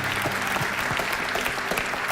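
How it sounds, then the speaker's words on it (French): A church congregation claps in a steady, dense burst of applause during a healing service, the sound filling the room evenly with a few voices faintly mixed in. "On applaudit Jésus."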